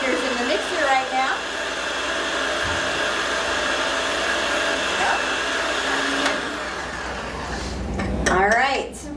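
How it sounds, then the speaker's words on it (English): An electric mixer whirs steadily as its beaters churn a cheese ball, a continuous motor hum with brief louder surges near the start and end. "Gabe is just kind of like letting the cheese ball fling off of the beaters in the mixer right now"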